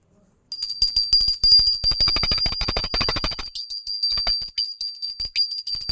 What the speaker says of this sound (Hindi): ये घंटी हम अपने घर में बजाते हैं